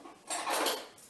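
Knives, forks and spoons handled while setting a spring table for two, a brief soft clatter of metal lasting about a second, quiet and close, with no voices.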